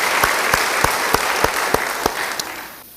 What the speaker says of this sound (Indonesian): Sekali lagi beri tepuk tangan yang meriah, yang panjang buat dia